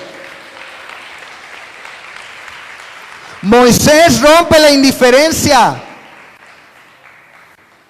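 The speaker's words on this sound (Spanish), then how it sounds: "dale una ofrenda de palmas a tu Dios vivo" Church congregation applauding as an offering of praise, a broad wash of clapping under a loud preacher's voice that bursts in midway and then fades back to steady applause.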